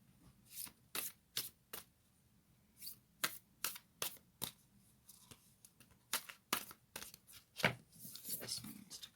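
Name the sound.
shuffling a deck of Moonology oracle cards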